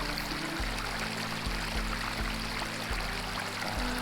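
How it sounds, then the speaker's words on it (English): A freshwater stream at a Sunshine Coast swimming hole flows in a steady, soft wash, with low rhythmic pulsing beneath, continuous and fairly quiet throughout. "Look at that fresh water."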